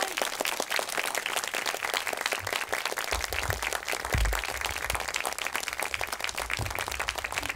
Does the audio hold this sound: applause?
yes